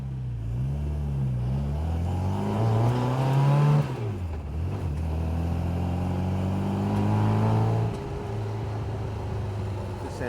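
Freshly rebuilt engine of a 1960 Super Sprite sports car running close by, a steady idle broken by two brief blips of revving that rise and fall, with a voice talking over it.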